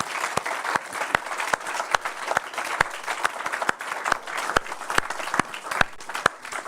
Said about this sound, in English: can I just ask for a round of applause?